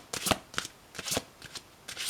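Oracle cards shuffled by hand during a full moon reading, giving four quick riffling bursts in a steady rhythm, close and fairly quiet, with no voice.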